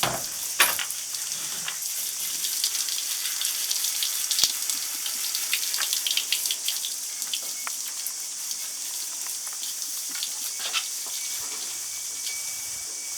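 Water splashes and runs steadily while a buck goat is washed, an Arapawa goat on a farm, with a broad continuous hiss and scattered sharper splashes and drips close by throughout.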